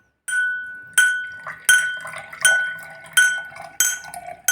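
A glass holding water is struck about six times in an even rhythm, each tap ringing out clearly with a bright, sustained pitch before the next; more water gives a lower pitch.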